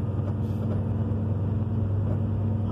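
A truck descends the Serra de Paranaguá mountain road on engine braking, giving off a steady, loud, low droning rumble with no pause.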